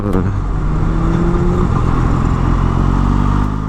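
A Yamaha XSR900 engine pulls hard and loud, its rising drone holding close and steady throughout, with faint rider talk under it.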